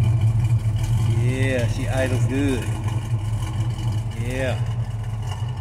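A 1969 Chevrolet Camaro Z28 V8 idles with a steady, deep low rumble that runs throughout, while people talk over it nearby.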